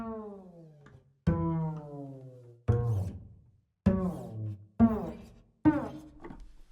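Brass instruments from a Dixieland trad jazz ensemble sample library play a series of extreme downward glissandos, each a bright note sliding sharply down in pitch, repeated about six times with short gaps between them.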